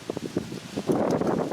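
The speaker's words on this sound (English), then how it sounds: "it's very windy out." Wind gusts outdoors through banana plants, rustling leaves and buffeting the microphone, starting with soft broken puffs and swelling into a steady, louder rush.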